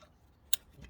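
A single sharp plastic click snaps into place under a Toyota Auris 1.8 hybrid during servicing, a crisp close tick against near silence with a soft rustle after.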